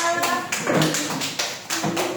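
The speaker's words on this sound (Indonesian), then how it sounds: "Tepuk tangan untuk kita semua." Classroom applause as students clap together, a run of bright quick claps in bursts close by, with voices mixed in.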